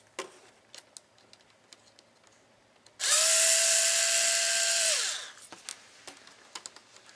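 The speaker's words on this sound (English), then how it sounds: "we've got to bust out the big drill." A small Black & Decker power drill whines steadily at high speed for about two seconds while removing parts from a radio-control crawler's steering knuckles, close and loud, amid faint ticking handling noises before and after.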